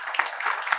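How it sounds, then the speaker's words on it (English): Audience applause breaks out at a vascular anaesthesia session of a medical conference, a short burst of dense, even clapping that swells briefly and fills the room. "And a big clap for all of them."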